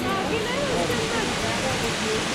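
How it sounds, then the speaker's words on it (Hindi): Spring water flows steadily out of the mountainside at Baba Dhansar temple near Katra, a continuous rushing wash close by with no breaks. "ये देखिए, यहाँ से पानी है जो वो निकल रहा है।"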